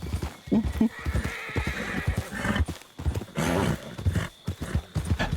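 A horse in Red Dead Redemption 2 gives a loud, drawn-out whinny while hooves clip-clop in quick irregular beats, close by, with people talking in short bursts over it.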